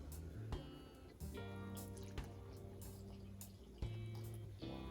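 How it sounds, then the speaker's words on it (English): Water pours slowly into a split pea mixture for dhal puri while cooking, giving a faint running trickle with a few small knocks and clinks, alone without talk. "I'm going to slowly add my water"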